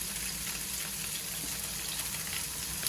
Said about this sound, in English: You hear that? That's exactly what we're looking for. That sizzle.